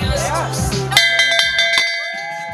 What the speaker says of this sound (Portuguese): Toca o sino ali, ó!